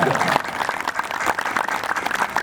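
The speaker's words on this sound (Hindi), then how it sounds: "मुस्कुराते हुए तालियां लगाएं।" A yoga group at an International Yoga Day gathering in Baradari Garden, Nawanshahr, clapping rapidly and continuously in unison, a loud dense patter that fills the whole moment.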